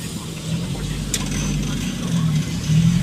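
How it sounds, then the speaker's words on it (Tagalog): Road traffic in the Philippines heard from inside a vehicle, with a steady low engine rumble and car noise that swells toward the end, with a brief faint click partway through. "Oh my god, traffic"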